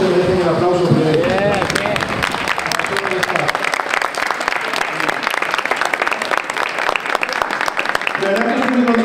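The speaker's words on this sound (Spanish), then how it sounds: "Yo creo que ellos se merecen el aplauso primero" An audience at a welcome cocktail for an awards event in Spain claps loudly for the hotel staff, a dense sustained round of applause with voices and cheers mixed in at the start and end.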